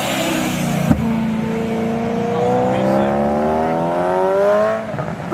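Supercharged BMW M3 engine revving up with a rising, whining pitch that climbs steadily and fades, loud and close, with no talking over it.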